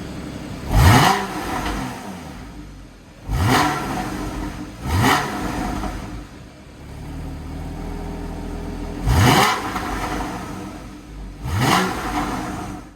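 Porsche Boxster S 981 engine in Sport mode, revved five times in sharp blips that rise quickly and fall back to a steady idle hum between them, loud and close with no talk.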